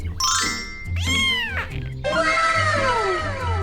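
Several loud, close cartoon cat meows in quick succession, each rising and falling in pitch, with short gaps between them.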